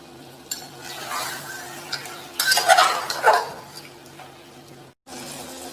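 Mutton being stirred and sautéed in a metal pot, with spoon clatters and scraping against the pot, a louder burst of clinks in the middle, over a faint steady sizzle with no talk.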